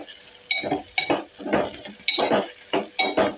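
Sliced onions hit heated oil in a pan for a tomato curry, crackling in several short bursts with stirring and utensil scrapes between them, close and fairly loud.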